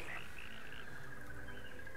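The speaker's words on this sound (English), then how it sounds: "I have released the frogs." Frogs croaking in the World of Warcraft video game, a short burst of chirpy, trilling calls close by, fairly quiet and alone.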